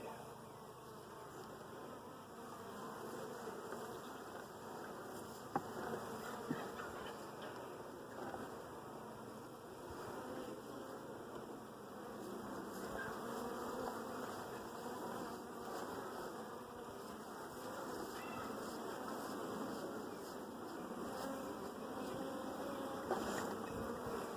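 A dense swarm of honey bees around an open hive makes a steady, unbroken buzzing hum, moderately close and even throughout.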